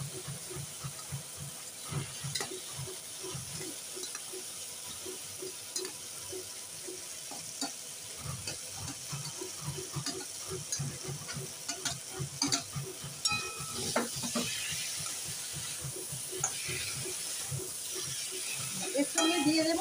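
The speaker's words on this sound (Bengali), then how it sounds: "এবার এই এঁচোড় আর আলুটা এই মশলার মধ্যে দিয়ে আরেকটু কষবো।" Young jackfruit and potato stir-fried in spices in a pan sizzle softly throughout, with repeated scraping stirs of a spatula at a steady rhythm, growing slightly louder toward the end.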